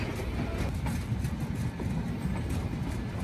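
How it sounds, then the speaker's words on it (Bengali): The Benapole Express train runs along a new, dusty line, heard as a steady low rumble and rolling roar with faint rhythmic knocks, continuous and fairly distant-sounding throughout. "ধুলাবালি ওড়াতে ওড়াতে ছুটছে ট্রেন"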